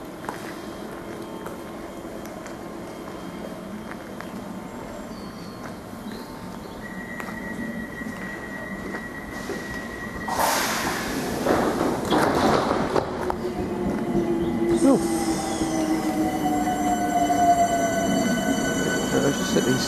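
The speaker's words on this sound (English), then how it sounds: "I just set these two trains to go out the way and the other person can just come in." Trains run on rails on a morning in southeast London: a steady rolling rumble with thin squealing tones, swelling louder partway through as a train passes nearby.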